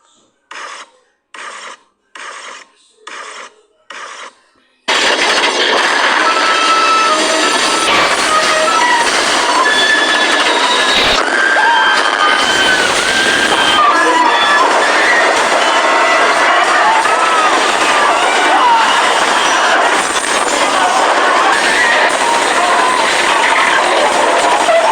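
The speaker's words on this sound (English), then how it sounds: "I gotta pull off this one because I'm gonna crash the train." Subway train in a video game running loud and continuous, with grinding wheel squeal and rattling clatter, after a few short beeping tones at the start.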